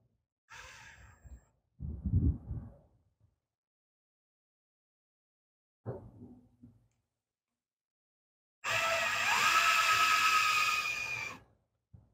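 Power drill boring a hole in the body of a 1972 C10 pickup, a single loud whining burst of a few seconds near the end after some quiet breaths and small movements.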